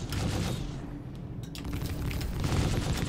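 Dense, continuous bursts of cannon and gunfire from a C8X Pisces flight combat game, loud and sustained with booming rumble throughout, no talking.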